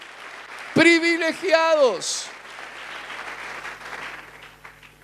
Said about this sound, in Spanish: yo que usted le doy un aplauso de agradecimiento